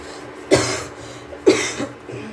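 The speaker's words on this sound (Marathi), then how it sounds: "खोकला खूप आहे मला" Two harsh coughs about a second apart, close by, over faint low background hum, from a person with a heavy cough.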